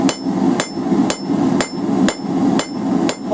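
Hammer blows strike hot steel held half over the edge of an anvil while a coal fire rake is forged, seven sharp ringing strikes in a steady, evenly spaced rhythm, close and loud.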